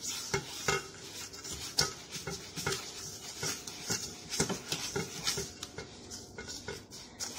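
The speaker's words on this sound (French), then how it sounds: "faut fouetter les jaunes d'œufs avec le sucre jusqu'il y a un mélange qui blanchisse et qui devienne mousseux" Egg yolks and sugar whisked together in a bowl for a cake, giving rapid rhythmic clinks and scrapes of a whisk against the bowl, close and continuous, with no talking.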